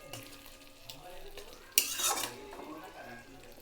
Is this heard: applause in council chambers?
no